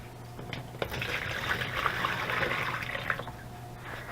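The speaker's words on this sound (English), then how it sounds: "Next, I'm going to use my pre-made bucket of water, and I'm just going to fill this one up." Water poured from a bucket into an axolotl tank, a soft steady splashing and trickle that runs on continuously at low volume, with no talk.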